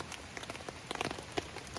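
Rain pattering steadily on leaves and ground at a sheltered campfire spot on a hike, with scattered louder drops landing close by amid the soft continuous patter.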